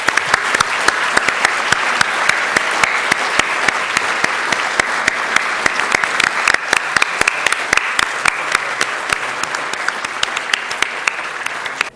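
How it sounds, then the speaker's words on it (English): Sustained, dense applause from a large audience at an evening awards ceremony, greeting a guest speaker, loud and continuous for about twelve seconds with no talk over it. "A round of applause for our guest speaker"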